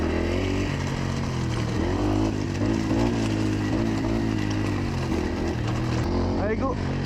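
A Beta RR 125 LC enduro motorcycle engine drones steadily at low revs in first gear under engine braking, a close, continuous rumble that holds for the whole stretch with slight shifts in pitch.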